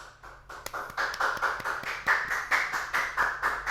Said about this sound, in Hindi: बच्चा लोग तालियां बजती रहनी चाहिए with full जोश।